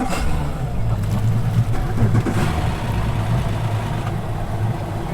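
Twin Yamaha 300 outboard engines rumble at a steady idle, a low continuous throb with no voices over it.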